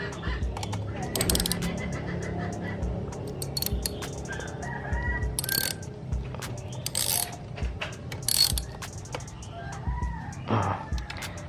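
A wrench ratchets to tighten a 12 mm gearbox bolt on a Honda Beat scooter, giving repeated quick clicking bursts, while a rooster crows in the background.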